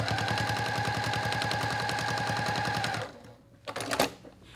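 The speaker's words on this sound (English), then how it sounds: "you're gonna sew where you cover the stitches you started on" A sewing machine stitches quilt binding in a fast, steady mechanical rattle for about three seconds, then stops, followed by a few soft handling clicks and knocks.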